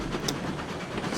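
A steam train in RailRoads Online rolls steadily along the rails with a continuous rumbling chug and faint clatter, close and even throughout.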